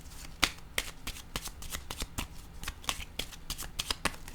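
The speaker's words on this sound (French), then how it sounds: "Je vais déposer une autre carte." Playing cards shuffled and dealt onto a table during a reading, a run of sharp, quick riffling clicks and snaps at close range, steady and fairly quiet throughout with no talking.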